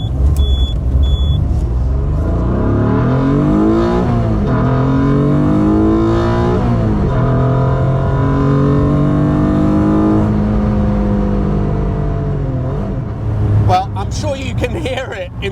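A Lancia Stratos Lister Bell STR with a standard Busso V6 engine accelerates hard through the gears from inside the car, its loud rising revs dropping at each shift, after a brief indicator beep at the start.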